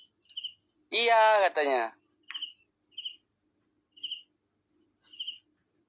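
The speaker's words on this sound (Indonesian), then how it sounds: "Bunyi krik-krik itu jangkrik." Crickets chirp in short, evenly spaced high bursts, faint and steady against a quiet night, while someone speaks briefly near the start.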